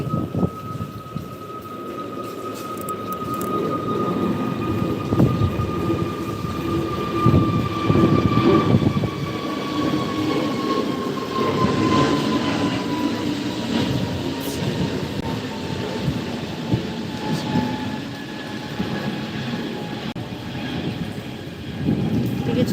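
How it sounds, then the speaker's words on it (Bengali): An airplane passing over a house rooftop under heavy cloud after Cyclone Remal's storm: a long, steady droning whine that slowly falls in pitch, over a constant rush of wind. "আবার একটা প্লেন আসছে"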